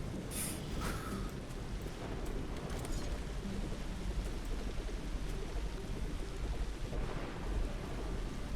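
Thunder rumbles over steady rain in a storm in the video game The Riftbreaker, with a sharp crack near the start and a continuous dense wash of rainfall throughout, no talking.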